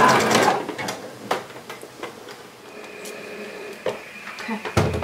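Sewing machine zigzag stitching across a plaid fabric tote bag, a busy mechanical whir at the start followed by quieter intermittent clicks and short bursts of stitching, fairly close.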